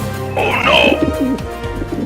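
A pigeon coos close by, a throaty rolling call rising and falling over about two seconds.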